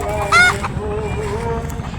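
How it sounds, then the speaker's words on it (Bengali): A rooster that has wandered into a crop field gives one loud, brief call near the start, then a steady outdoor background hum continues without further calls. "দেখেন মোরগটা আমার ক্ষেতের মধ্যে ঢুকেছে"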